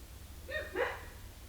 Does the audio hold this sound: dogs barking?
yes